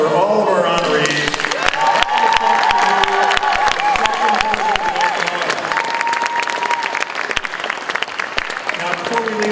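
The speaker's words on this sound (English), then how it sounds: "one more round of applause for all of our honorees." Audience at a school Hall of Fame induction ceremony applauds and cheers its honorees, with steady loud clapping and whoops and voices rising throughout, sustained from start to finish.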